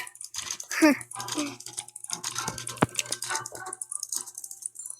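Someone types on a computer keyboard while playing a YouTube simulator game, producing uneven bursts of clicking keys with a few sharper taps, mixed in with nearby speech.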